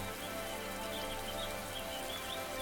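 Rainfall in the Cube World game trailer, a continuous patter over a sustained musical backdrop with faint high chirps drifting through.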